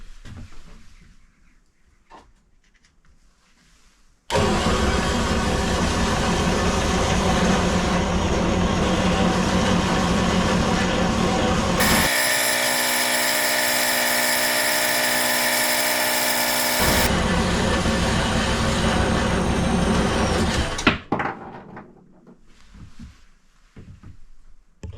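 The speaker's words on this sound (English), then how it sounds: "Center drill, then drill through bit by bit, swapping the piece around in the chuck halfway through." A lathe motor hums loudly and steadily for a long stretch while drilling 316 stainless steel, changing pitch midway, then winds down to quiet clicks and handling noises.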